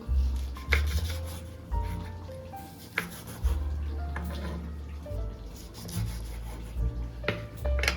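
A knife cuts two green chillies into pieces on a board in a home kitchen, with irregular sharp taps and scraping strokes over a low background hum.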